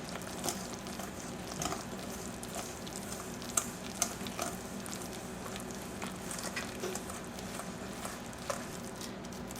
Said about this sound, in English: Then you just want to keep stirring to make a really nice cake batter.